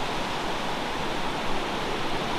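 A river flowing steadily, a dense, even broadband rush of water that holds constant throughout without speech.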